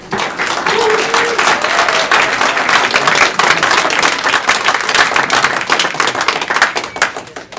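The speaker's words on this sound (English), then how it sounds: "Can you please not applaud after each comment?" Dense applause and clapping from an audience at a city council meeting, loud and sustained throughout, with a brief voice near the start.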